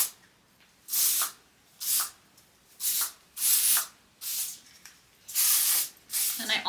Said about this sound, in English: now I'm going to go in with the texture spray